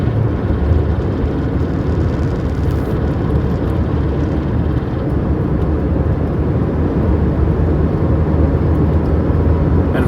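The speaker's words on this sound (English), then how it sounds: "And very fun fourth gear driving" A car cruising steadily in fourth gear near Devils Tower in South Dakota, a constant loud rumble of engine and road noise with wind roar, unbroken and even throughout with no voices.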